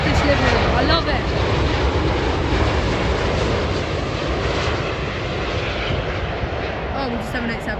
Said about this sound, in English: Boeing 777 coming in from Tel Aviv on airlines.